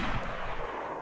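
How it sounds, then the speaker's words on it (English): A single shotgun blast goes off in DayZ, one short heavy boom at the start that fades into a rumbling tail within about a second. "No, it wasn't a blaze. It was a shotgun."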